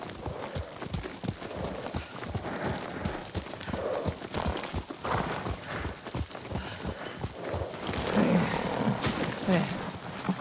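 A horse walks along while ridden at night, its hooves clip-clopping in a steady rhythm close by, with a low ambient bed beneath and brief soft voices.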